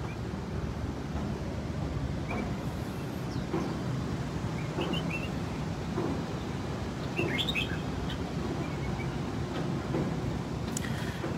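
Caged songbirds in a Hanoi bird collection let out sparse, faint chirps and short calls. They are scattered through a steady wash of broadband background noise, with no talking.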